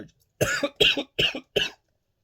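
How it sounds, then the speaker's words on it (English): Four harsh coughs in quick succession, close and fairly loud, forming a short coughing fit with brief gaps between them and silence after. "Coughing fit there."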